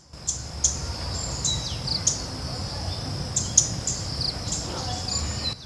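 Birds chirp and call in a forest among native plants, with bright, short tweets repeating every second or so over a soft, steady backdrop of insects and ambient hiss.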